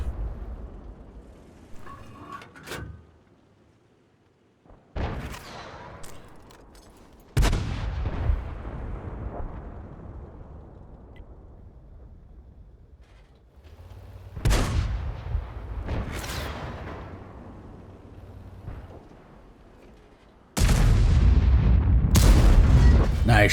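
Tank cannon shots boom out in a tank video game, several heavy blasts spaced across the stretch with rumbling decay, the loudest near the end, set against a steady low game backdrop.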